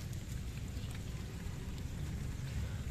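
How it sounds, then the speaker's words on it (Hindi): Rain falling steadily on potted plants outdoors in Lahore, a dense, even patter and hiss that continues without a break and stays moderately quiet. "इस टाइम लाहौर में बारिश हो रही है और हमारे जो प्लांट्स हैं वो सब बारिश में ही पड़े हुए हैं"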